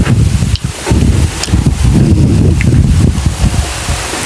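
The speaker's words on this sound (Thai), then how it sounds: "ฟังเบิ่งเสียงลมเนาะ" Strong wind blows outdoors, buffeting the microphone in a loud, continuous roar with gusty low rumbles and faint rustling, no voices.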